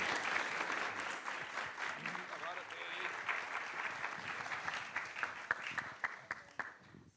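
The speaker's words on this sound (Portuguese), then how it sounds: "uma grande salva de palmas" An audience at a fado singer's palace performance breaks into a warm round of applause with distinct individual claps, while someone talks over the clapping.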